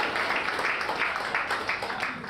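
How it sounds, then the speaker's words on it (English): Conference audience applause at an emergency care conference in Queenstown, a dense, fairly faint wash of many hands clapping steadily for the whole stretch with no voices on top. "big round of applause for everyone"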